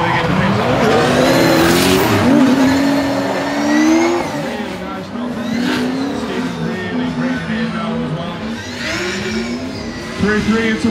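Nissan S30 and BMW E46 drift cars run tandem in a drift competition, engines roaring and revving with long tire squeals and skids, loud and continuous, under a commentator's voice.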